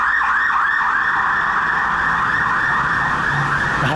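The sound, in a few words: ambulance siren on a Bangkok street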